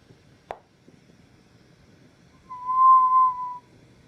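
A molten glass marble being popped open by a glassblower gives a short pop, then a clear steady whistle about a second long, fairly loud against a quiet background.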